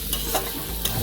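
Coriander leaves frying lightly in a pan, with a soft continuous sizzle and a few faint stirring scrapes over about a second, no talking.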